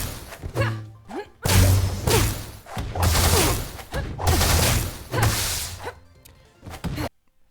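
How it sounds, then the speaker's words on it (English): Beam sword effects from the video game Rivals of Aether 2 fire in a rapid series of crackling, electric slashes and whooshes, loud and dense, with brief gaps between bursts. "Normally, her beam sword would sound something like this."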